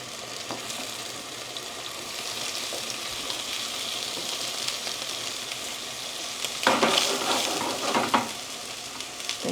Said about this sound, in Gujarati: તો ગેસ પણ થોડો ફાસ્ટ છે, તો થોડી વારમાં ફ્રાય થઈ જશે.